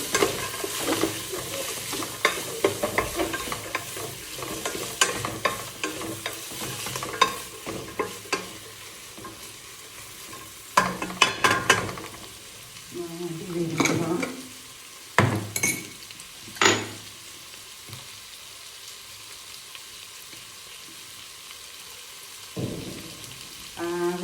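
Onions fry in a pan with garlic, sizzling steadily while a utensil stirs and clinks against the metal in irregular bursts, the sizzle dropping to a faint hiss between stirs.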